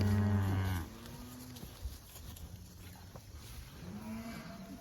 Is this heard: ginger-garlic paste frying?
no